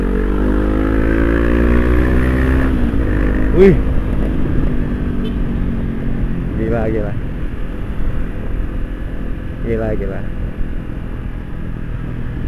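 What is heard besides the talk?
Honda CB500X motorcycle engine during test ride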